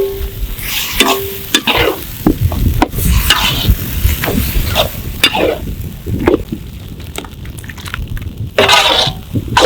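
Chopped goat fat sizzles in a hot pan and is stirred in repeatedly, giving loud, close frying hiss broken by sharp scrapes and clacks of the spoon against the pan.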